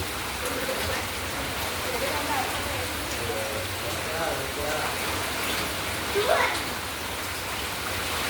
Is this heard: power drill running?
no